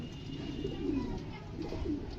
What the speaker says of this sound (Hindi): बहुत ही तेज है कबूतरी यार।